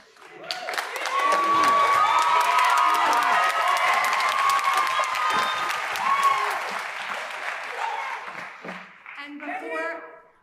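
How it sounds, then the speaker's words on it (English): A middle school spring concert audience breaks into loud applause and cheering with whoops and shouts, then the clapping tapers off with voices talking at the end. "So if you performed in All-County Orchestra, please stand up for a round of applause."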